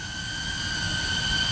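A noisy homemade UFO-style drone whines in flight outdoors over grass, a steady high-pitched tonal drone holding at even loudness throughout.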